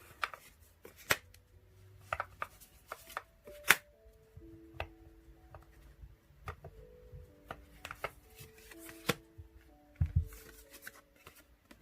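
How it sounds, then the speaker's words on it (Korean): Tarot cards are shuffled, slid and drawn on a table during a reading, giving a string of soft papery flicks and taps in an irregular rhythm, close and fairly quiet, with no talking. "여러분들을 위한 조언 카드 3장만 뽑아보고 마무리하도록 할게요"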